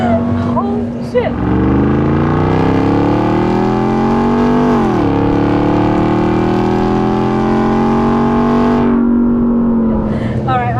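A supercharged 700-horsepower V8 in a 2021 Ram TRX, a 6,000-pound truck on 37-inch tires fitted with a GTHaus exhaust, roars loud and close through a long sustained pull that rises steadily in pitch, with a brief dip before climbing again.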